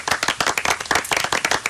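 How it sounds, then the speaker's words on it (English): Rapid hand clapping in a radio studio, a short burst of close, sharp claps in a quick uneven rhythm, loud and on its own. "Round of applause for me"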